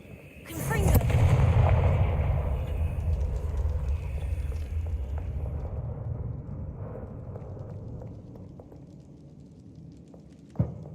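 A Confringo fire spell blast from Hogwarts Legacy on PS5 bursts in with a sharp crack, then a loud rumbling roar that slowly fades over several seconds, ending with one more short hit.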